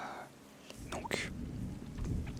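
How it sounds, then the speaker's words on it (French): Rain falls in the video game Terra Nil as a soft, steady hiss that swells slightly toward the end, with a quiet whispering voice over it. "on va attendre que la pluie remplisse entièrement tout ce qu'on a"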